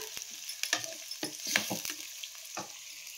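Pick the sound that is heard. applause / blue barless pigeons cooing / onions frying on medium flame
onions frying on medium flame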